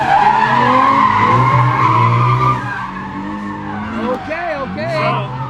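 Drift cars, including a Mustang, squeal their tires at a drift event, loud wavering screeches sliding up and down in pitch over engine roar, with a commentator talking over them.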